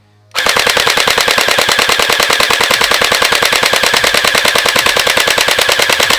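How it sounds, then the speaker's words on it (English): A YaGee DGR BO9 gel ball blaster fires on fully automatic, a loud, rapid, evenly spaced burst of shots close by. It starts abruptly after a short silence and runs steadily to the end. "let's see how fast this thing shoots on fully automatic"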